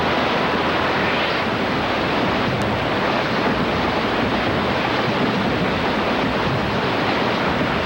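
Turbulent whitewater of river rapids rushes around a kayaker as a dense, steady roar that stays loud and unbroken throughout, with no voices.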